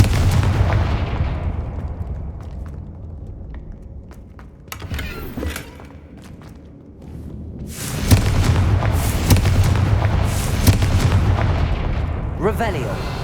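The Confringo fire-blast spell in Hogwarts Legacy goes off as a loud, rumbling explosive roar, easing off briefly and then surging again into a sustained blast with crackling bursts.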